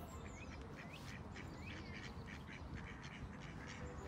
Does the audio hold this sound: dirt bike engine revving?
no